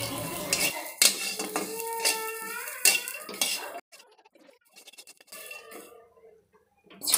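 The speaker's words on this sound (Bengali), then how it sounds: "কিছু সময় নাড়াচাড়া করার পরেই বাদামগুলো ভাজা হয়ে যাবে" Peeled peanuts being stirred and fried in a kadai, with a spatula clanking and scraping against the metal in busy strokes for a few seconds, then settling into quieter, intermittent scraping.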